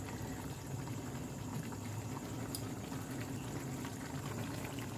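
A pot of kosha mangsho, a Bengali meat curry, simmers with a steady, dense bubbling and sizzle. It stays even and close for the whole clip, with no voices.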